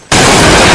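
A sudden, very loud explosion blast from a dubbed Chinese kung fu action film, bursting in abruptly after near silence and sustaining a dense roar.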